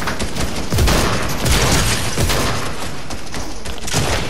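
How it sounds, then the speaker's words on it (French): Enemy gunfire in a Fortnite match: dense, continuous volleys of shots with heavy thumping impacts, loud and close throughout, without a break. "Mais pourquoi il me tire dessus?"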